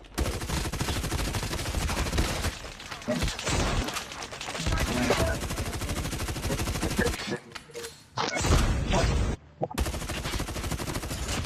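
Shotgun and other gunfire in a Call of Duty Mobile match on the Alcatraz map, a dense, near-continuous run of loud shots and bursts with brief drops, and a player talking over it.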